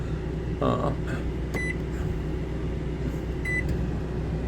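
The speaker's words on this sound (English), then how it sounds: "I'm going to start the microwave for a second to show you that it works." A microwave oven runs inside an RV with a steady, close hum throughout, joined by a couple of short, faint beeps partway through.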